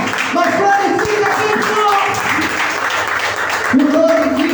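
Church congregation applauding during a Sunday worship service, steady broadband clapping throughout with voices and singing tones mixed in, and a voice rising near the end.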